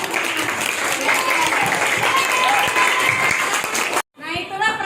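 A class of students claps together in a school setting, a steady loud patter that runs for about four seconds before cutting off, followed by a brief burst of children's voices.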